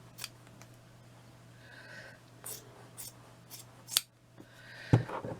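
Scissors trimming craft material for a wall plaque, with scattered snips and soft rustling, close and fairly quiet, ending in a sharper cut and handling noise, without talking.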